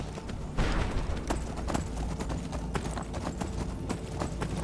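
Horse hooves clip-clop steadily while riding in the video game Skyrim, a continuous galloping rhythm of close, firm thuds with no speech.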